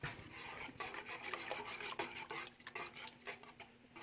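A spoon scrapes and rubs steadily around a pot of homemade cream of mushroom soup with half and half, giving a soft, repeated rasping stir close by with no talking.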